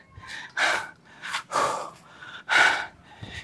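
Heavy, ragged panting after a jump rope workout: a run of loud, close gasping breaths in uneven bursts, each sharp inhale or exhale standing out clearly with short pauses between, and no talking.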